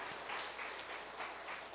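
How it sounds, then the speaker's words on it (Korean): A congregation at a Korean church's children's Sunday worship service applauds, a soft, even patter of clapping heard from a distance that holds steady and fairly quiet throughout. "우리 박수로 한번 찬양합시다."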